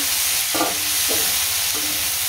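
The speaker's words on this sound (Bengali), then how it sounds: "এই যে কষাইতেছি, কষানো প্রায় হয়ে গেছে।" Food sautés in a pan in a home kitchen while a spoon scrapes and stirs it. Three short scraping strokes stand out against a soft, constant sizzle close up.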